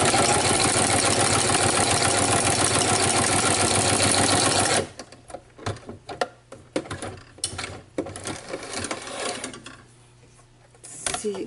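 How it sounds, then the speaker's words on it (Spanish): Sewing machine with a ruffler presser foot gathering fabric, a loud fast continuous rattling hum for several seconds, then stopping and giving way to quieter handling clicks and rustles. "bajamos prensatelas y empezamos a coser."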